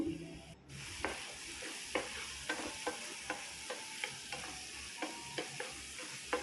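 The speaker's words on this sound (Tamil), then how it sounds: "ஒரு பத்து நிமிஷத்துக்கு இந்த மாதிரியே நல்லா கிளறி விட்டுக்கலாம்" Mushrooms sizzle steadily in a frying pan for Chettinad mushroom gravy while a utensil scrapes and taps the pan in a regular rhythm of stirring, no voices.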